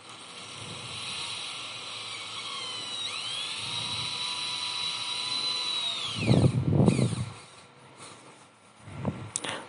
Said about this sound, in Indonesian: dilubang dengan bor guys.